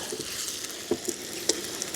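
Sweet sandwiches sizzle and crackle steadily in a hot pan outdoors, with a few sharper pops and scrapes standing out from the hiss.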